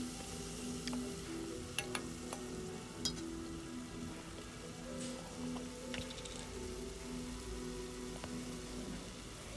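Chopped tomatoes with turmeric fry in a pan, a steady soft sizzle with occasional small pops and stirring clicks, fairly quiet and close.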